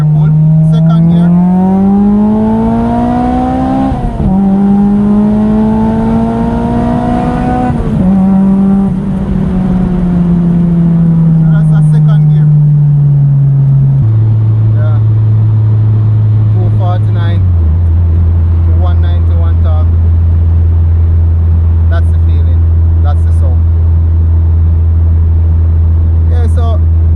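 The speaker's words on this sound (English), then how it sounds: "Right now I'm going to do a VTEC pull." Acura RSX fitted with Skunk2 Tuner 2 cams making a second-gear VTEC pull, engine note climbing steadily in pitch and loudness before shifting and settling into a lower steady drone, heard close from inside the car.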